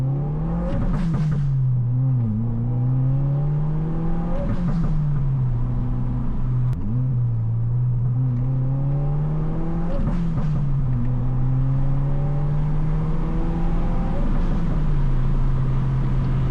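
Stock-exhaust Subaru VB WRX accelerating hard in first gear toward a 5,500 rpm shift with the windows down, a loud steady engine drone that rises and falls in pitch, heard from inside the car.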